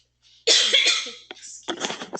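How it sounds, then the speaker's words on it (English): One harsh cough bursts out close to the microphone, followed by a second rougher cough and throat noise, loud against near silence. "I tried not to cough directly in the microphone."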